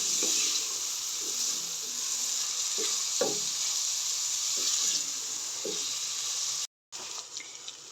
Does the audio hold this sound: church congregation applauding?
no